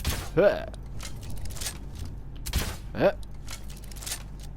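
The Dragonborn crossbow in a modded Skyrim game looses bolts in two distinct shots a few seconds apart, each a sharp twang with a mechanical click, quiet ambient game sound in between.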